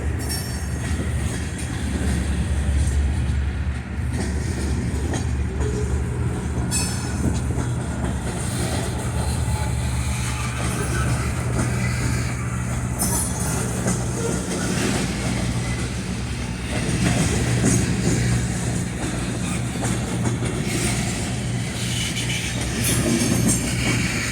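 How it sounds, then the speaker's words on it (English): A steady mechanical hum and drone of refrigeration units on passing refrigerated rail cars runs continuously, with faint wheel squeal and rumble throughout. "You can hear the refrigeration units running."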